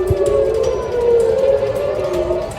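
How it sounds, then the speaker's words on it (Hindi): An air raid siren wails over Tel Aviv during a missile attack, a loud, sustained rising-and-falling tone filling the air with no voices. "शहर की फिजा में गूंजता ये सायरन"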